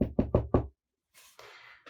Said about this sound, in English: So they knocked at this inn.